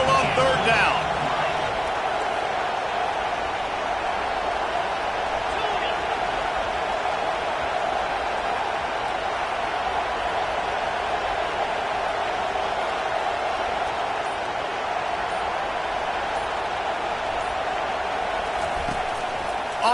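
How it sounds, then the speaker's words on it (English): Home crowd noise in the NCAA 25 college football video game, Notre Dame versus Penn State, a steady loud roar of cheering on third down, continuing under a commentator's voice. "Here comes this home crowd as the defense tries to get off the field on third down."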